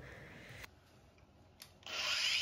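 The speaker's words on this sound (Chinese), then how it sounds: "所以考虑还是用角磨机吧，用角磨机切吧，这样还快一点" An angle grinder cuts a ceramic wall trim tile during a shower enclosure installation. The faint, whining cut breaks off briefly, then resumes louder and harsher.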